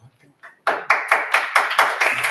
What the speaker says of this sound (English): Excuse me, no clapping.